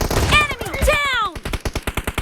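In PUBG Mobile, a close burst of gunfire crackles under sweeping game tones, then settles into a steady run of evenly spaced shots.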